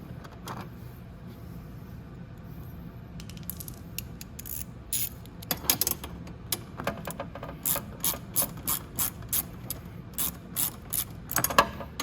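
A ratchet wrench clicks as it tightens a bolt on the radiator of a Venom x22GT 250cc automatic motorcycle, with short bursts of rapid ratcheting that settle into a steady series of even strokes, close up with no talking.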